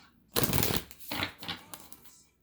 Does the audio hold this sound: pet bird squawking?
no